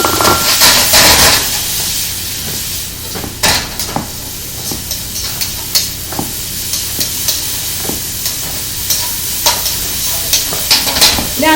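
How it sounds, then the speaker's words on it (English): Carrots and broccoli stir-fry in a hot pan with a constant sizzle and repeated scraping, clacking strokes from stirring, close and fairly loud throughout. "So I'm going to put in my carrots in now too."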